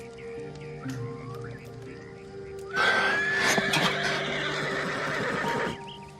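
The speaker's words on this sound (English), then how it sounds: "The horse." A horse in the Red Dead Redemption video game whinnies loudly for about three seconds, a rising, shrill neigh with snorting texture, heard alone over a quiet ambient game backdrop with faint bird calls.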